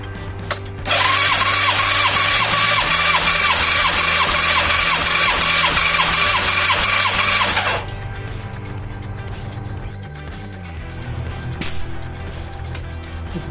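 The engine of a Yamaha FZR 1000 EXUP cranks on the starter at full throttle during a cylinder compression test, a loud close rhythmic whirring that lasts about seven seconds and then stops, leaving quiet shop noise.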